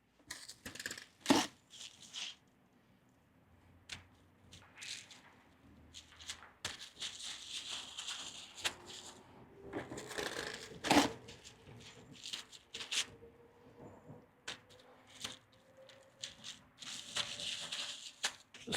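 A cut portion of ribeye roast being wrapped for storage, with crinkly plastic wrap rustling and crackling in irregular bursts. The sound is soft and close, with small taps against a cutting board.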